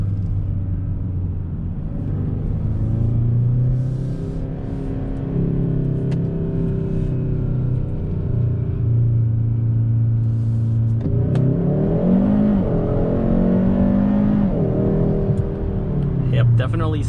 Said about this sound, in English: Yep, definitely some wheel spin right there